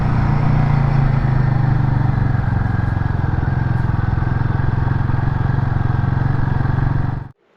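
Royal Enfield Guerrilla 450 motorcycle close by, engine running loud and steady with a continuous low throb as it rides off, cutting out abruptly near the end, with no talk.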